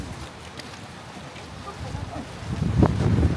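Gusty wind roars against the microphone in a snowstorm at Ginzan Onsen, Yamagata, Japan, building louder toward the end, with faint rustling and no clear speech.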